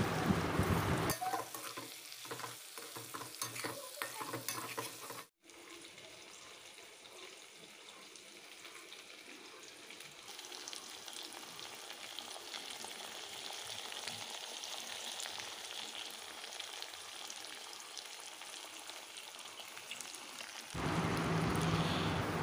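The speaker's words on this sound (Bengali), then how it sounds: "এবার আমি আলু বেগুনগুলোকে ভেজে নেব।" Potato and eggplant pieces frying in a pan with salt and turmeric: a loud spluttering burst at first, then a steadier, quieter sizzle that swells again near the end.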